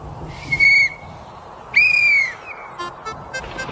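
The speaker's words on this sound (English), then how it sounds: "It sounded like a whistle." Two long, shrill whistle blasts sound a second apart, followed by a few short, quieter chirps over faint outdoor background noise.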